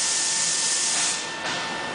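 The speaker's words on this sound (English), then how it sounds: "it has no problem spraying through" A spray machine forcing a thick but lightweight hot pipe coating through its nozzle, a steady close broadband hiss that runs unbroken and swells slightly near the end.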